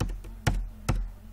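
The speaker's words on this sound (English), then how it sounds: "press enter button in the keyboard." Computer keyboard keys pressed during accounting data entry, giving a few sharp, close clicks spaced about half a second apart over a low steady hum, with no talking.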